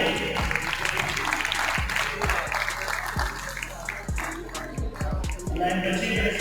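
A crowd applauds at a prize ceremony for Quranic calligraphy, a brief burst of clapping under someone speaking and rhythmic background beats.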